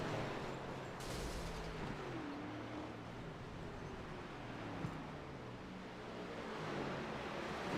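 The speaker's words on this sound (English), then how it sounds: "The fireworks are going off." Fireworks going off after a stock car championship race, a steady rumble of distant booms and crackle that rises again near the end, with no talk.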